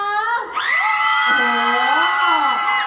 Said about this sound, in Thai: ขอเสียงกรี๊ดนะให้คุณท่านชื่นใจครั้งสิคะ